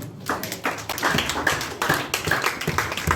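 A church congregation claps in a steady rhythmic beat during a Sunday worship service, the handclaps close and moderately loud and continuing throughout.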